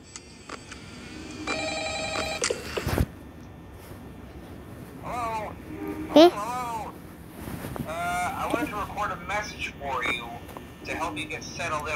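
A telephone rings in a Five Nights at Freddy's horror video game, sounding as a bright repeated electronic ring in the opening seconds, followed by a sharp click, with game audio and voices continuing afterward.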